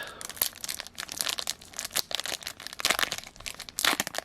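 Crinkling plastic wrapper of an UNO Ultimate DC card pack being torn open up close, a run of sharp crackles and rustles with brief pauses, no talking.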